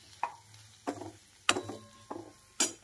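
Boiled matki sprouts being sautéed in masala for misal pav, a spoon scraping and tossing the mixture in a pan. Five distinct stirring scrapes come at a steady, unhurried pace over a faint low hum, with no talk.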